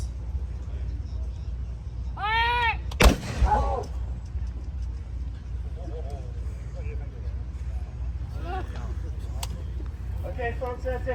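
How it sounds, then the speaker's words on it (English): A single sharp, loud blast from a 106 recoilless rifle firing on an open range at a tank museum event, a sudden broadband crack against steady background rumble, with brief voices nearby before and after. "And here's one more shot of the 106."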